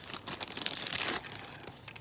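Stiff plastic packaging around a Happy Meal toy is cut open with tough scissors, giving a steady run of close crinkling and crackling with a few sharp snips and tears.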